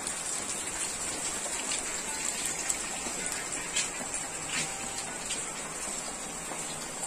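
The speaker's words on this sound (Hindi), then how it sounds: "बहुत ही जबरदस्त बारिश, पूरा मेरे घर में भी पानी बहुत चू रहा है।" Heavy monsoon rain falls steadily on a house, a continuous soft hiss with scattered drip and splash ticks, faint and even with no voices.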